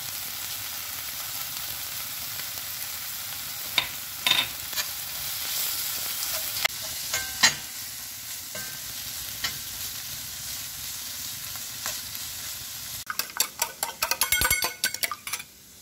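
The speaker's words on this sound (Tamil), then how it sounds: "இந்த முட்டை இப்போ ஹாஃப் குக்காக இருக்கிறப்பவே அந்த ரொட்டி சனையெல்லாம் நம்ம இதில் போட்டுக்கலாம்" Kottu parotta with egg and shredded roti fries in a pan, a soft sizzle under scattered utensil clinks and stirring scrapes, building to a rapid burst of metal clatter near the end; no one speaks.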